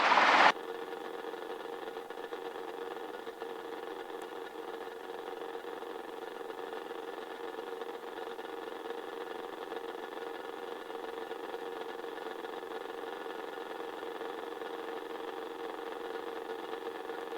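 Steady mid-pitched engine drone of a Robinson R22 helicopter running at reduced throttle, constant and close for the whole stretch after a short louder burst at the start, with no talk.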